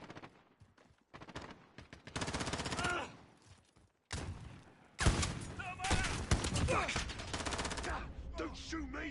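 Gunfire in the shooter game Modern Warfare comes as repeated bursts of automatic fire and rapid shots, some loud and close, others thinner. Brief pauses break up the volleys, and a voice is heard faintly.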